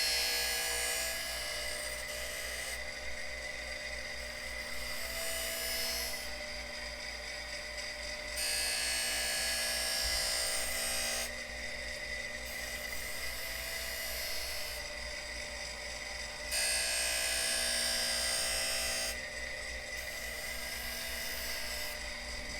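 A Harig Super 612 surface grinder, just out of storage, runs its wheel with a steady high whine that swells and fades in regular passes as the table traverses back and forth.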